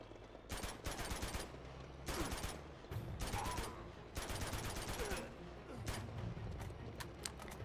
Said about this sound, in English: It takes two shots with the shotgun up close!